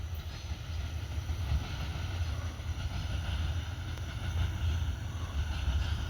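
A train passes through Abbeville with a steady low rumble and a broad wash of noise that holds evenly throughout, without any talking.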